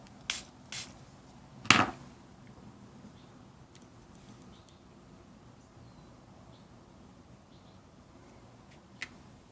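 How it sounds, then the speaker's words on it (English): A spray bottle mists water onto a watercolor-inked wooden stamp, giving one short, close hiss among a few faint taps in a quiet room. "I'm trying to mist it again."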